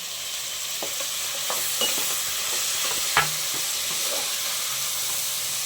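Tomatoes added to vegetables frying in a pan and stirred, giving a steady close sizzle with scattered scraping stir strokes and a few sharp knocks, no talking.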